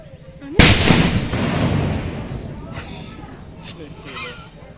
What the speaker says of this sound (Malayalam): നല്ലൊരു വെടി ശബ്ദം കേട്ട് ഞങ്ങൾ പേടിച്ചു